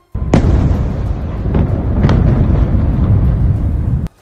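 Iranian missile explosions strike Tel Aviv and surrounding areas: a loud, continuous roaring blast with sharp cracking bursts near the start and middle, then an abrupt cutoff after about four seconds, with no voices.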